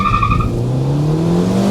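A Seat Leon FR launches hard from a standstill, its engine note rising steadily through the revs as the car pulls away, loud and close.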